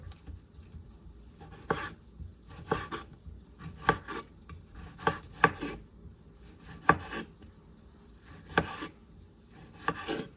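A knife chops seasoning vegetables for curry on a board in irregular clusters of sharp cuts, close and fairly quiet, with no talk.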